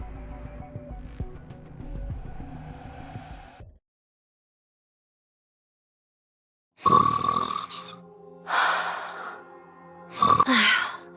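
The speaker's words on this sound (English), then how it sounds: "Ave's snoring is goddess level. We can hear it all the way from over here." A character snores in the video game Goddess of Victory: Nikke. Soft background music cuts to silence, then three loud, drawn-out rasping snores follow with pauses between them.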